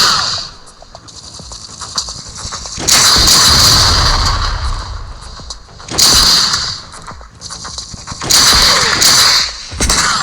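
Rockets fired at a boss in a helicopter mobile game, three loud bursts of whooshing, explosive blasts spaced a few seconds apart over rumbling game noise, with no talk.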